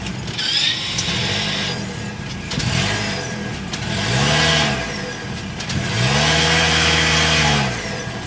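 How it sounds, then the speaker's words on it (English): A 2023 Toyota Crown hybrid starting up and revving, with several rising and falling engine sweeps in bursts, recorded close and loud with no talking. "We need to go inside and start it up so you can hear that engine."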